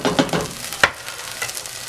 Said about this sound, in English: next we're going to add the tomatoes